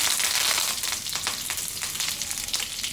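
Mustard seeds, cumin, dried chillies, cloves and curry leaves hit hot oil for a Gujarati sev shaak tempering, giving a loud, bright sizzle that eases into steady crackling with scattered pops, and no voices.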